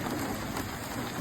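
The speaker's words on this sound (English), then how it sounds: "Yes, it's still raining." Steady rain falls on surfaces outdoors during cold weather, a dense, even patter filling the brief moment without any voices.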